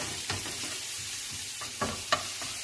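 Onions and garlic brown in a pan for stuffed bell peppers, a continuous close sizzle broken by a few scraping stirs, with no talking.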